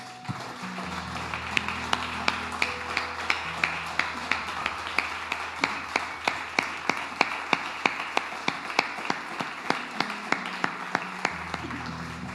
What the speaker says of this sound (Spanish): Denle un aplauso al Señor, mi hermano.